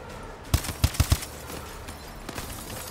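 Gunfire from the PC shooter Call of Duty: Advanced Warfare (2014): a quick cluster of four sharp, punchy shots, then a couple of fainter pops a moment later, with no talking over them.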